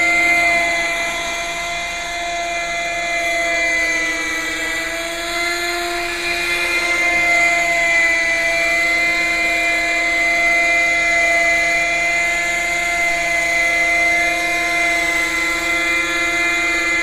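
Quickie 18 model helicopter with all-aluminum parts flies with a steady, high-pitched whine and buzzing engine drone, sustained and fairly close, no talk.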